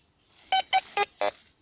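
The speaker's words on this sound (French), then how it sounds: "Alors ouais, ça bip encore." Four short electronic beeps, close and distinct, come from a metal detector sweeping over a target hidden beneath dead leaves in the Lorraine woods, with a faint hiss between them.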